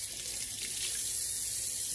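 A child washing hands under a running tap, a steady close stream of water splashing into a sink, even and unbroken, with no voices.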